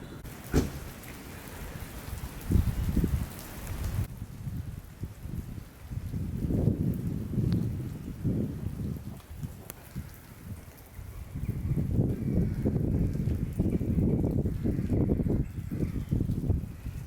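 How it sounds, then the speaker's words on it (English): Steady rain patters down on surfaces, with gusts of heavier downpour and rumbling wind over the whole stretch. "More rain."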